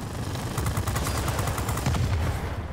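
Rapid, continuous bursts of machine-gun fire from an F4F Wildcat fighter plane in World of Warplanes, loud and close with a rattling repeated rhythm throughout.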